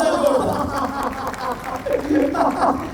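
Audience applause at a Hindi kavi sammelan poetry event, a sustained wash of clapping and crowd murmur with chuckles mixed in, moderately loud throughout.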